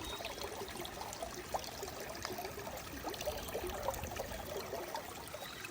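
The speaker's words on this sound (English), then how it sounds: "Water coming in right over here. It's flowing right under my feet down here." Stream water on the Appalachian Trail flows steadily under foot, a faint, even rushing and trickling with no break.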